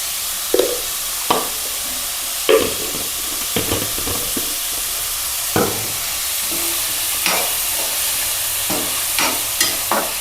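Onions softening in a hot pan for a Tirupati-style cluster bean and peanut powder curry, with a loud, steady sizzle broken by repeated sharp clacks and scrapes of the stirring spatula, close up and without talk.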